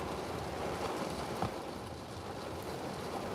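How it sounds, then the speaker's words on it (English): A steady, dense hiss of heavy rain pouring down without letup, fairly faint and even throughout, with no voices. "Listen to that downpour."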